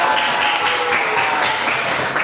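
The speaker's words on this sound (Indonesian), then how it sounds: "Oke, tepuk tangan untuk kita semua." A group claps together in applause, a dense, steady patter of many hands that stays loud and even from start to finish, with no voices over it.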